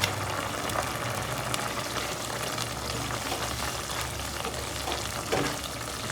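Green chillies sautéing with spices, turmeric leaf, lime leaf, bay leaf and lemongrass in a pan for West Sumatran ayam lado mudo, a steady close bubbling simmer with soft sizzle running throughout and occasional stirring clicks.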